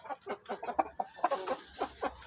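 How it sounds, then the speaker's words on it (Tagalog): Black Shamo asil chicken clucking close by, a quick string of short throaty clucks in an uneven rhythm, fairly clear with faint background noise. "Yan yung ating Shamo na Shamo asil na black."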